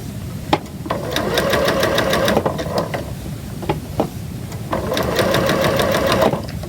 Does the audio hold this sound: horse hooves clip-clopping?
no